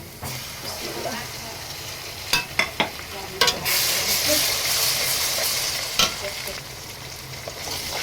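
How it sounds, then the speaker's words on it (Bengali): Onions sizzle steadily in hot oil while a spatula scrapes and knocks against the pan in occasional stirring strokes, before ginger-garlic paste goes in. "পেঁয়াজটা নেড়ে চেড়ে কিছুক্ষণ ভেজে নিচ্ছি"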